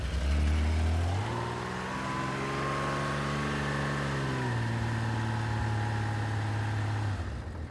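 A Honda CBX motorcycle engine with the choke on cranks, catches and climbs to a fast idle, then settles lower into a smooth, steady hum close by.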